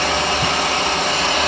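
KSI SQC20 CNC Swiss lathe's sub spindle running at about 2,000 RPM, a steady close machine hum and whir with broadband noise, constant throughout with no talk.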